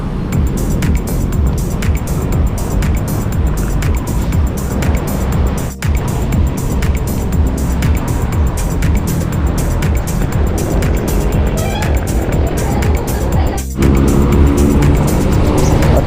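Constant engine and tyre roar of heavy passing traffic on Sumulong Highway in Antipolo, heard up close and loud from a bicycle, with repeated swells as vehicles go by and no clear talk.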